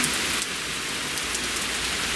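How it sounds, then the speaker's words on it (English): Heavy rain pouring down steadily outside a house, a dense even hiss of drops on surfaces that stays loud and unbroken throughout, with no voices. "again, a massive downpour"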